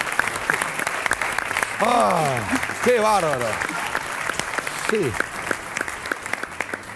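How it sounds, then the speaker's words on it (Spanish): A studio audience on a Uruguayan game show claps for a couple, a dense patter of close hand claps running throughout while a presenter and a guest speak excitedly over it. "un aplauso grande para esta pareja"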